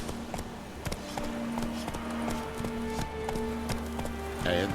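Roach, the horse in The Witcher 3, gallops in a steady rapid clip-clop rhythm of hooves, moderately close, over game ambience and a low musical drone.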